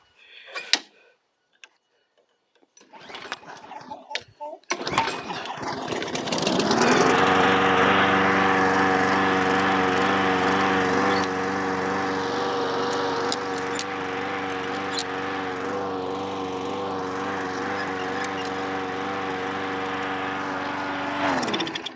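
A lawn mower with a front drive fault is started with a pull cord: a few clattering pulls, then the engine catches and settles into a loud, steady running drone close by.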